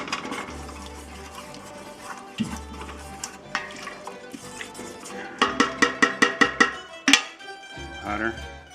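A spoon stirs tomato paste sauce in a pot, scraping and clinking against the metal with a quick run of rhythmic taps near the end, over a low background hiss, moderately loud and close.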